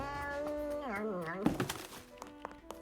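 A cat meows in a drawn-out, wavering call in the Duck Detective video game, followed by a few soft thunks, with a voice talking over it.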